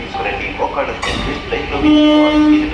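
A train at Vijayawada railway station, with a sustained horn-like tone rising over the platform bustle in the second half, while voices carry nearby.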